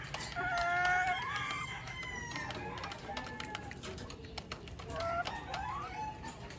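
SBR gamefowl hens and roosters cluck and crow repeatedly at close range, with overlapping calls throughout.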